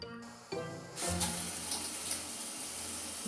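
A bathroom tap turned on and left running to pass for a shower, a steady rush of water pouring after a short knock and a first splash.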